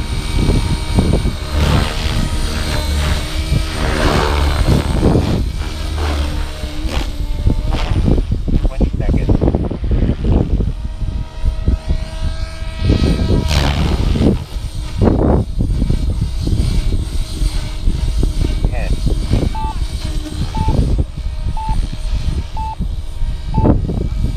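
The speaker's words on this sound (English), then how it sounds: "helicopter is really stable" A Blade Fusion 480 radio-controlled model helicopter with a 550mm stretch kit hovers and flies nearby, its high whirring rotor whine steady and loud, with people talking and cheering over it.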